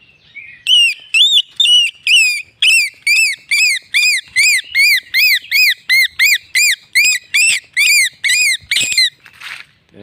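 Close, piercing chirps from a small whistle made from part of a forest tree, blown in quick regular bursts like a chick's cheep, ending with a brief rustle.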